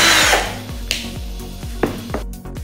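A Benz Werkz BZ 8105 cordless impact drill runs in short bursts, each spin-up sliding into a high motor whine, with sharp clicks and taps between the bursts, close to the microphone.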